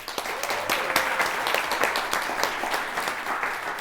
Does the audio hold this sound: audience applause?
yes